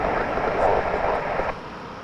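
A WestJet airplane at Toronto Pearson airport gives off a broad roaring engine wash that stays steady and fairly loud, then eases slightly toward the end.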